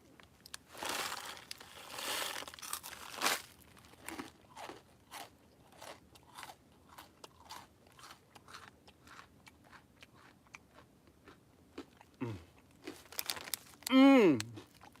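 Cheetos crunched and chewed close to the mic, with dense bursts of crunching early on and then a slower series of separate bites, ending with a brief voice.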